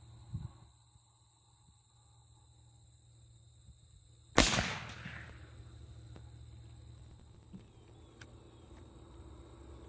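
A Traditions .50 caliber muzzleloader rifle fires a single loud, sharp shot outdoors, with a long rolling echo fading over several seconds against a quiet background of insect hum.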